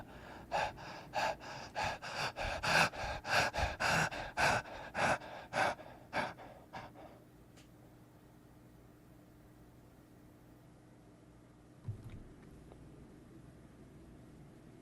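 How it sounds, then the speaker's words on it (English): Labored, heavy panting as a sound effect, with rapid rhythmic gasping breaths for about seven seconds, close and loud, then fading to quiet low hum with a brief thud later. "The panting is intense."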